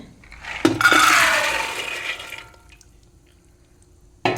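Water gushes into a metal pressure cooker holding chickpeas in one steady pour lasting about two seconds, then fades into quiet, with a sharp clank at the end.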